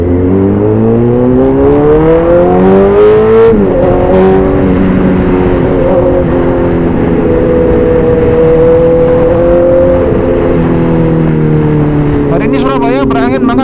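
A 2012 Honda CBR 1000RR 20th Anniversary sportbike being ridden on windy Surabaya roads, engine rising through the revs then holding a steady drone, loud and close with heavy wind rush, a rider talking over it.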